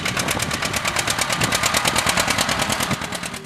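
A two-cylinder engine on a John Deere Model A tractor pops in a steady, rapid rhythm, each beat sharp and evenly spaced, loud and up close, running alone without any voices.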